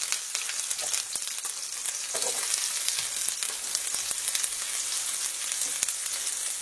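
Small shallots hit hot oil with mustard seeds and fry with a loud, dense, continuous sizzle and crackle, close up and with no voices.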